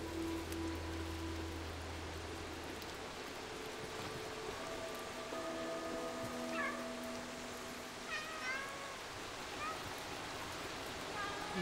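A cat meows in the video game Stray, a few short calls near the middle and end over steady rain-like ambience and soft game music.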